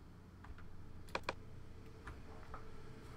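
A few crisp clicks from a Mac keyboard and mouse, with a light key press followed by a quick double click, close and quiet against a faint hum.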